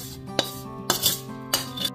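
Hot chusi pitha dough is scraped and tipped from a wok into a bowl, giving three close clattering bursts of metal utensil on cookware over a low background hum.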